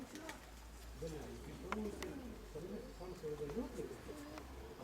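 Low, throaty cooing from several pigeons, overlapping and rolling continuously against a quiet hum of background noise.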